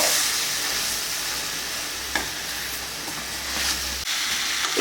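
Chicken pepper masala sizzles and fries steadily in a pan, with a continuous close hiss and occasional stirring scrapes and small bursts, no voices.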